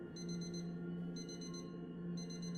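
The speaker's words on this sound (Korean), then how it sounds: "어? 알람 소리?" A bedside alarm clock ringing in the Empty Gauge horror game, three bursts of rapid high electronic beeps separated by short pauses over a low steady hum.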